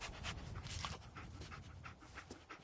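Dogmeat, the dog companion in Fallout 4, pants rapidly in quick, rhythmic breaths that sound fairly close but soft, over a faint background of game ambience, with no talking.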